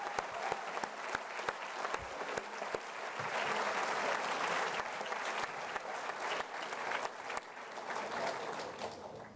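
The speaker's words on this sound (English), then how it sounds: "So let's give her a round of applause." Audience clapping at a school convocation, with distinct individual claps at first building into sustained applause from a large crowd, moderately distant.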